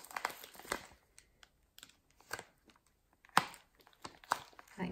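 Paper envelope packet being opened and handled, with scattered crinkling and tearing rustles in short bursts, close and fairly quiet, with pauses between.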